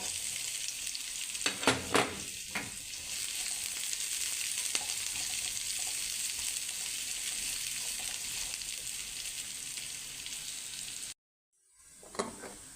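Chopped garlic, a dried chili and chopped onion frying in a pan: a steady, bright sizzle with a few stirring scrapes early on, a brief cut to silence, then the sizzle returns.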